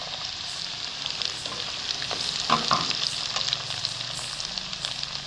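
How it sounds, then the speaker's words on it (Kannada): Onions fry in hot oil for tomato gojju, giving a steady, close sizzle with occasional crackles and stirring scrapes throughout. "ಈರುಳ್ಳಿನೂ ಚೆನ್ನಾಗಿ ಎಣ್ಣೆಲಿ ಫ್ರೈ ಆಗಬೇಕು."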